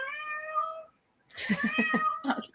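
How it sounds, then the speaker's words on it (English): A cat stuck in a room indoors meows several times close by: one drawn-out, wavering meow, a short pause, then a louder run of quick, insistent meows. "my daughter has a cat that's stuck in the room with me right now"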